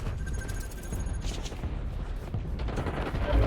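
Gunfire in the video game Call of Duty Warzone, a burst of rapid shots and crackling fusillade with a few heavier booms, moderately loud and mixed with game mechanism noises.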